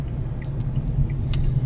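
A taxi fitted with a variable geometry turbo cruises in sixth gear at about 50 km/h, its engine giving a loud, steady low rumble heard from inside the car.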